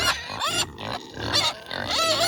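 Pigs grunt and oink close by in repeated bursts while being hand fed at a gate, with a couple of higher squeals mixed in, loud and continuous.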